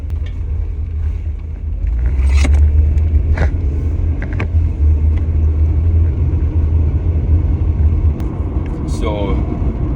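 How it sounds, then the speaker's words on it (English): A car driving with the window down, giving a steady loud low rumble of road and wind noise throughout, while a person talks over it. "I have to drive with the window down today"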